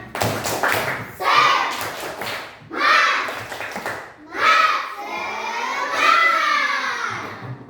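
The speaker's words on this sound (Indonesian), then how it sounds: "sekarang kita tepuk semangat dulu" A group of students in a classroom performs the 'tepuk semangat' spirit clap, with bursts of rhythmic hand claps alternating with loud group chanting in a repeated pattern.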